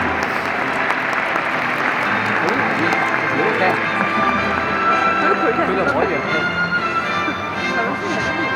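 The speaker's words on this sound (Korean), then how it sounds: "다시 한 번 큰 박수 주시기 바랍니다." A large stadium crowd applauds continuously and loudly at a farewell ceremony for football captain Jesse Lingard, a dense wash of clapping and cheering that stays steady throughout.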